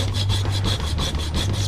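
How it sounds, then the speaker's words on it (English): A hacksaw blade draws back and forth through metal at a workbench, steady rasping strokes about every quarter second, close and loud with a low hum underneath. "You know how many things I've cut with this one hacksaw blade?"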